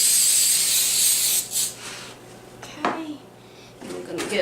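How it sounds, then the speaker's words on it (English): Coconut oil cooking spray misted from a can into small containers in a home kitchen, a loud hiss that fades after about a second, followed by faint clinks and handling noises. "we're going to give it a little spray of cooking oil"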